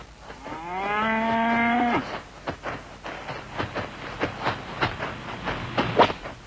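Cattle on a remote, isolated farm where corn is grown as feed: one long, loud, close moo rising and falling for about two seconds, followed by a jumble of softer clattering and knocking sounds with no speech.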